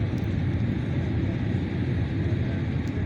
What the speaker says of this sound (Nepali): प्लेन ल्यान्ड गर्नलाई एकदम तयारीमा धेरै डाउन गर्दै आइसकेको छ